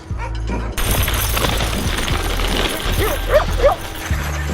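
Sled dogs in Yakutia bark and yip in short bursts against a steady mechanical rumble, with a busy, noisy background throughout.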